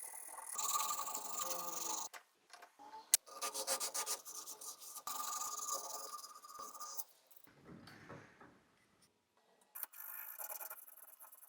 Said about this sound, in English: I sand the specific sections of the scoops one after another